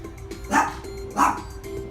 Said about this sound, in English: Dog, can you shut up?